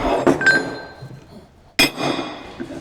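A hammer chases metal panel work on a Maserati Mistral under restoration, with two sharp, ringing metallic strikes about a second and a half apart, each trailing off into a short clinking decay.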